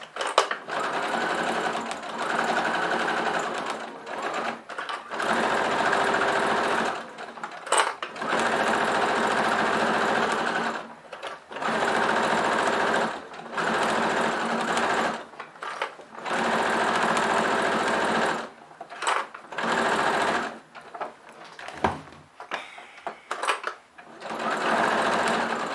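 A sewing machine stitches a curved seam on an XXL fabric waist bag, its close, steady mechanical whir running in bursts of several seconds separated by short pauses as the fabric is turned.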